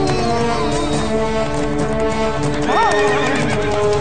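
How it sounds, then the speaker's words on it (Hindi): A horse loudly neighs and whinnies while hooves clip-clop through a busy market, a continuous dense din up close. "जल्दी कुछ करना होगा वरना ये घोड़ा सारे बाजार को मैदान बना देगा"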